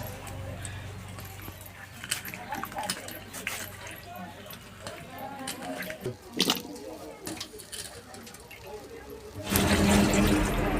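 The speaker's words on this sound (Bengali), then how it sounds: "ভালো করে আলুগুলো ধুয়ে নিচ্ছি।" Potatoes washed by hand in water in a home kitchen for an aloo chop recipe, with soft splashing and rinsing clatter that gives way to a louder rush of running water near the end.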